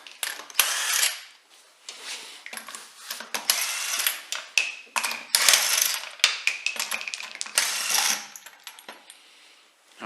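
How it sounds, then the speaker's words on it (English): Wheel nuts on a Nissan Navara NP300 are spun off with a ratcheting tool, giving a busy series of close metallic rattles and clinks in irregular bursts. "We've taken the locking wheel nut off, so we'll just rattle those off."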